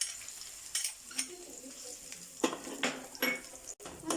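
Tamarind stirred into hot oil in a pan for a chilli chammanthi, curry leaves to follow: a soft, steady sizzle broken by several sharp scrapes and clinks of a spoon against the pan, close and fairly quiet, with no talking.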